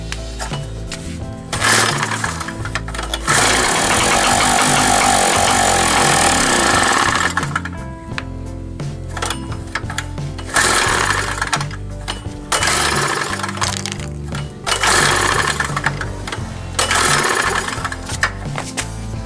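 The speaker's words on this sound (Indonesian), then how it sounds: "Kan, dan saya tes engkol." A motorcycle engine is kick-started for a test and then runs in loud, close bursts of rapid mechanical clatter. The bursts are broken by short pauses where the engine drops off and is restarted.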